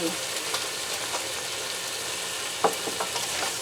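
Creamy beef with thyme and salt is stirred in a hot pan, with a dense close sizzle, spoon scrapes and one sharp clink partway through.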